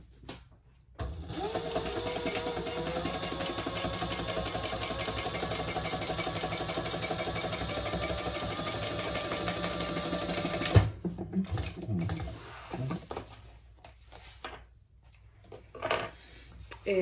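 A sewing machine stitches a sling bag seam at full seam allowance, a steady close whirring run of about ten seconds that stops abruptly, followed by faint handling clatter.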